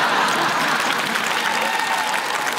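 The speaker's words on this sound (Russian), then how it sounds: "Аплодисменты тоже хорошие." Sustained audience applause at a televised comedy roast, dense and steady throughout with no voices on top.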